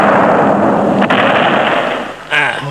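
An old cannon fires in a historical battle drama, producing a loud booming blast that rumbles on and fades, followed by a second sharp burst near the end.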